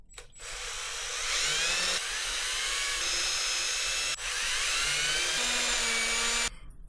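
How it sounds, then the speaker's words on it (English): Small power drill whines steadily while drilling out hardware holes in a wooden fishing lure being remade from a 1940s design, close and loud, pitch dipping slightly under load with a brief stop midway. "So let's go ahead and drill out some hardware."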